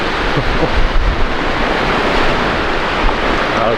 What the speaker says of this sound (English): There's definitely enough wind now.